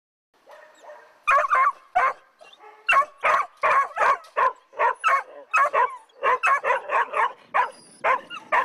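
Many dogs barking in crowded animal shelter kennels, a rapid run of loud overlapping barks and yips in quick bursts, near and echoing, with occasional whimpers between.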